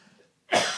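A single harsh, close cough bursting out suddenly after a short silence.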